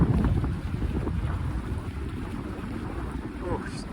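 Strong wind buffets a campsite, a low, continuous roaring rush with gusty surges and broadband noise, close and fairly loud throughout.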